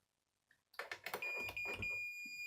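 A sharp continuous multimeter continuity beep starts suddenly after some clicks and rustling while testing a travel adapter, holding a steady high tone to the end, close and clear.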